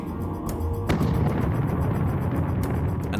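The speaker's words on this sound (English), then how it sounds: "They go off with a bang and burn out quickly." A rocket engine fires with a loud bang at about one second, then a steady heavy roar carries on to the end.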